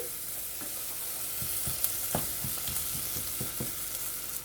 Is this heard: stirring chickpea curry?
yes